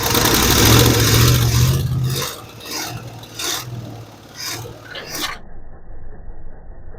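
A 1969 Chevy Custom C10 pickup, pulled from a field and a junkyard, cranks with a rough, raspy engine roar that fades into a choppy series of uneven cranking pulses before cutting off abruptly, leaving near silence.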